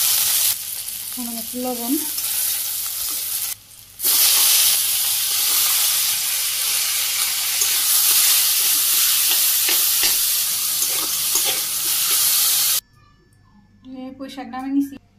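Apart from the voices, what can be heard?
chopped onions and green chillies frying in oil in a wok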